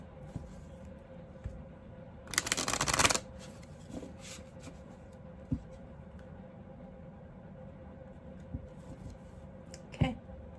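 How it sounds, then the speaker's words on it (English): A deck of cards is shuffled for a pick-a-card reading, one dense riffling burst lasting under a second, then quiet room tone with a few soft taps and one more brief rustle near the end. "I go quiet when I'm shuffling"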